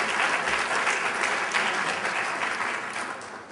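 Audience applause at a Federalist Society symposium keynote, a loud, full burst of clapping from a large crowd that starts at full strength and gradually eases off over a few seconds.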